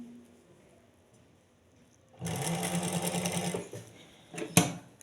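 A sewing machine stitching a zigzag seam along lace starts up after a quiet pause and whirs steadily for about two seconds, then slows with a few closing knocks.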